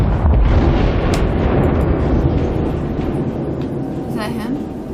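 Explosions and heavy gunfire in the naval battle game World of Warships, a dense, continuous roar of booming blasts that stays loud throughout and fades slightly toward the end, with voices talking over it.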